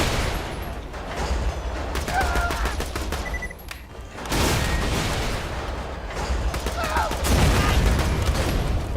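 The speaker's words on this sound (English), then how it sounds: "Okay, let's go with the pistol" Rapid bursts of video-game gunfire crackle through a Borderlands 2 firefight, dense and loud, with several volleys of pistol and other weapon shots overlapping in an ongoing battle.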